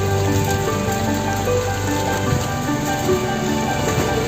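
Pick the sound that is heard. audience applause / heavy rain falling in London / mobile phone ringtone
heavy rain falling in London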